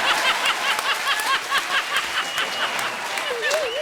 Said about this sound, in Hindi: जोरदार ताली हो जाए